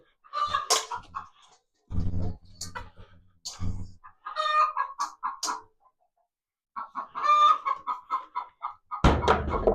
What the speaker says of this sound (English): What's the matter, chickens?